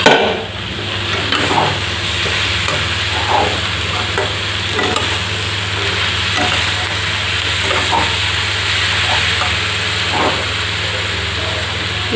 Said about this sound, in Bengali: এটা ঢাকা দিয়ে ভেজে নেব